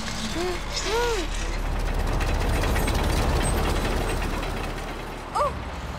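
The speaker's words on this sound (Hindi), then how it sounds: "सलेम, तुम दाएं मोड़ोगे और उबैद बाएं मोड़ेगा।" Levers and gears cranked on a cartoon digging machine give a steady ratcheting, clicking mechanical churn across the whole clip, with brief cartoonish whistling tones near the start and end.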